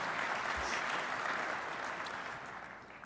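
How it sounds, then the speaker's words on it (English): Audience applause at the 2013 Rocky Mountain EXPO honoring award winners, a steady wash of clapping from a large room that gradually thins and fades. "Maybe we could give them one more round of applause for those well-deserved awards."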